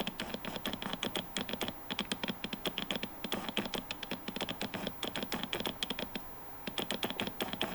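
Quiet, rapid mechanical clicking and ticking from a Canon lens autofocus motor on a Fuji X-mount camera via a Fringer Pro adapter, in uneven bursts with short pauses, close up and with no talking.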